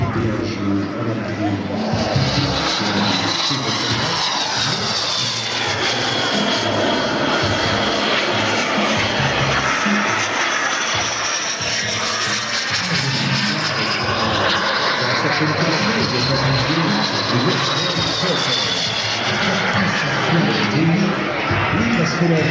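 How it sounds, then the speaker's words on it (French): A slow airplane drones overhead continuously, its engine a loud, steady roar with slowly shifting pitch as it passes, lasting the whole stretch without pause. "l'avion il n'est pas très rapide"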